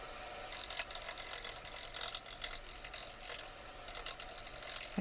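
A large bowl gouge cutting an unbalanced log spinning on a wood lathe, giving a loud, continuous rough chattering rasp with rhythmic bursts as the tool bites, close up and alone.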